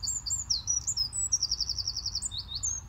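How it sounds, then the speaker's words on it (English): A bird chirps in quick, high, repeated tweets over a faint low background outdoors on an allotment during onion planting, the calls coming in a lively, continuous run. "being heckled by a bird."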